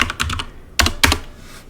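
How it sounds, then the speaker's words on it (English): Crisp, loud keystrokes on a computer keyboard as a command is typed, a quick run of taps followed by two heavier clacks, close to the microphone with no voices. "So if I type fast fetch"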